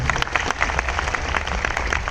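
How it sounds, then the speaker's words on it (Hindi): Audience at a business seminar bursting into steady, dense applause, many hands clapping continuously at close range for the whole stretch with no voices over it. "सर के लिए एक जोरदार तालियां हो जानी चाहिए।"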